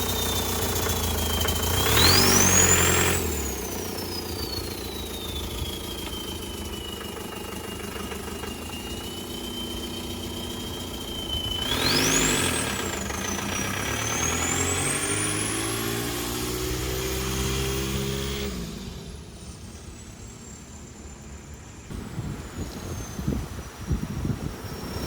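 A car fitted with a swapped-in TDI diesel engine is driven around the block, its engine note rising and falling through two clear revving sweeps over a steady running hum, with knocks and clatter toward the end.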